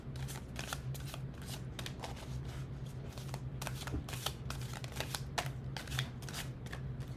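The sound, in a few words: shuffling a deck of Abraham Hicks cards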